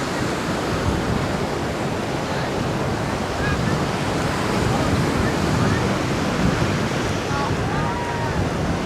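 Steady surf washes onto the beach at Costa Mujeres in Cancun, Mexico, a continuous broadband roar of breaking waves with wind noise on the microphone, swelling slightly midway through and with no voices.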